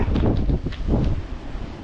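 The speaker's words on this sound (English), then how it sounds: "It's a wee bit windy." Steady wind gusting across an outdoor microphone on a walk around Garlieston, a broad rushing roar with low buffeting that swells and eases over a couple of seconds.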